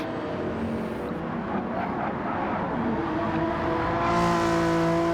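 Race cars in Gran Turismo 7 during a BTCC-style league race, a steady engine drone with shifting pitch for several seconds, swelling slightly louder near the end as a car closes in.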